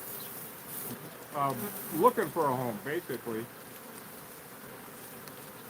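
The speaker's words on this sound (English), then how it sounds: "it's just a swarm, which is bees in transit" A low, steady hum of a swarm of honeybees in transit runs underneath as someone speaks briefly in the middle.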